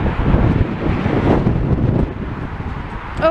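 Steady wind gusts buffet the microphone on a seafront street in Blackpool, a loud rumbling roar that eases slightly toward the end, with no voices.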